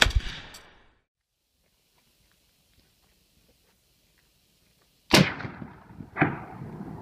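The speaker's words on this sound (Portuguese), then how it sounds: "Aqui você pode apreciar o espetáculo do disparo de uma modificação da metralhadora" A modified KPV heavy machine gun with 14.5 mm incendiary armor-piercing rounds fires a loud sharp burst, then a long silence before another loud report and a further crack, echoing outdoors.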